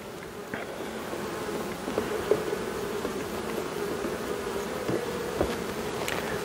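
A honeybee swarm hums continuously and densely up close while being transferred into a hive in October, a steady buzzing drone with brief louder passes of individual bees.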